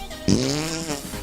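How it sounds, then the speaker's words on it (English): A single fart sound effect triggered from a soundboard pad, a low buzzy blurt that starts abruptly and trails off over about a second, heard alone and fairly loud. "G5 is fart."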